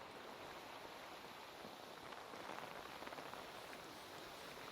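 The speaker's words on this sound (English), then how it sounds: "But I love the sound of the rain." Rain falling around a lagoon, a soft, even hiss of drops with faint patter, steady and fairly quiet for the whole stretch, with no voices.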